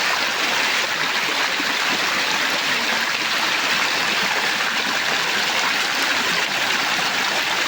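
A muddy creek rushes past, a loud, continuous broadband roar of churning water that holds steady throughout with no pauses.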